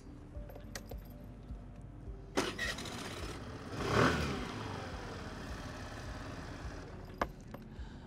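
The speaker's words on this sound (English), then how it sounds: "start the engine and run it on the idle speed for 3 minutes" Suzuki Access 125 scooter on its center stand, engine started and left idling, a low steady running hum with a brief swell in the middle and a couple of sharp clicks nearby.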